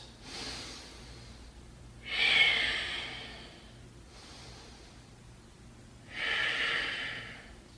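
During a yoga thigh squeeze, two slow, deep breaths are heard close up, each a long airy inhale followed by a softer exhale, over quiet room hum.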